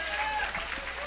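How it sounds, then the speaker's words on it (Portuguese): A church congregation claps together in a brief burst, a dense rattle of many hands under a voice speaking over it. "pode aplaudir ao Senhor por isso."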